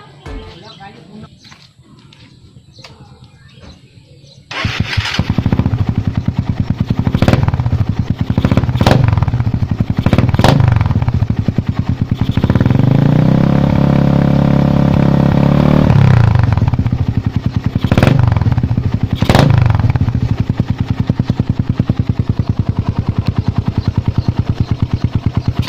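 A Suzuki Raider 150 motorcycle engine with an APIDO pipe runs without its silencer, starting at a quieter idle and then blasting into a loud, close, raspy exhaust with several sharp revs and a sustained high-throttle roar.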